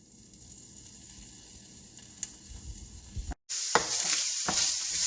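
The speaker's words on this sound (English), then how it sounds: "Once our oil has gotten nice and warm, we're going to start by adding in a ½ pound of ground beef." Half a pound of ground beef sizzles in warm canola oil in a frying pan over medium heat, a soft low hiss that swells suddenly into a loud, bright crackle with scraping stirs once the meat hits the pan.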